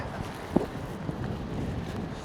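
Cold mountain wind at Sela Pass near the Sela Tunnel, a steady low rumbling gust buffeting the microphone with a couple of faint knocks, no voices.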